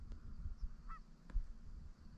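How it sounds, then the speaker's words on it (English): Geese in a cut corn field give one faint, distant honk over low wind rumble and a few soft thumps nearby. "There's two groups of geese in the field with me right now."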